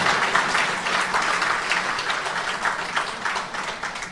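An audience at a Bhagavat katha discourse claps together, a steady, dense wash of applause lasting several seconds at moderate loudness, gently swelling and fading without voices over it.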